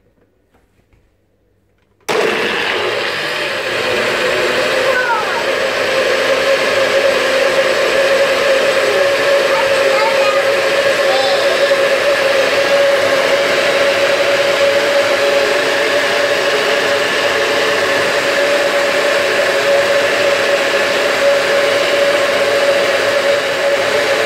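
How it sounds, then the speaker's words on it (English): A kitchen blender whirs steadily as it blends a berry smoothie with coconut water, starting abruptly after a brief quiet moment and running as a loud, even drone to the end. "so it's all in the blender, and we're just about to blend"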